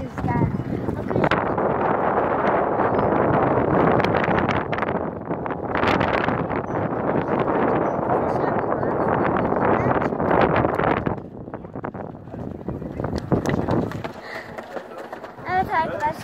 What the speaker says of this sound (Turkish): burası acayip rüzgar